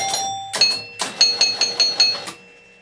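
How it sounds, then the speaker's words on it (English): Several sharp metallic chime strikes from pinball machine solenoid doorbell chimes ring out in quick bursts, bright bell-like tones with short decays, close and fairly loud. "those are all just these sort of doorbell chime knocker kind of things"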